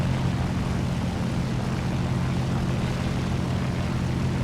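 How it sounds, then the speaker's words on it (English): Steady propeller aircraft engine drone from a friendly plane passing close in War Thunder, a loud continuous low hum with strong low harmonics throughout, no talk over it. "That friendly engine is real close."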